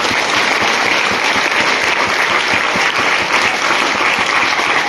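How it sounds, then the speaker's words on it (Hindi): Loud, sustained applause from a crowd at a Christian preaching gathering, dense clapping continuing throughout without pause. "आइए तालियां बजाइए इन लोगों के लिए।"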